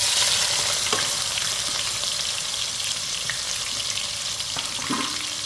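Onions frying in hot oil for a white lobia curry, a steady loud sizzle close by with occasional faint stirring clinks, no voices.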